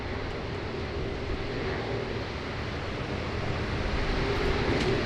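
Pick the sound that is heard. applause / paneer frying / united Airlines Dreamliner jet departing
united Airlines Dreamliner jet departing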